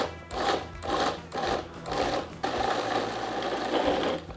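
A kitchen mixer whirs in rapid pulsing bursts while mixing ranch dressing, then runs steadily, loud and close, with no talking.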